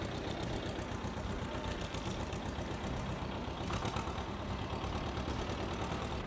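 Mini tractor on a small farm, its engine idling steadily after starting, with a rotary tiller attached; a loud, continuous close-up rumble with no talk.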